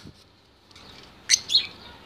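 Zebra finches chirping inside their cage, a few thin, high tweets close by, with two brighter chirps near the end over quiet background.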